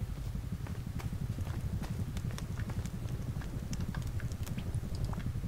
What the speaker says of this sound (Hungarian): Elszökött a ló